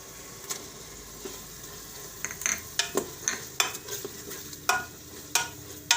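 Tomatoes tossed into fenugreek frying in oil, a soft constant sizzle broken by a series of sharp clinks and scrapes of a spoon against the pan, close and uneven in rhythm.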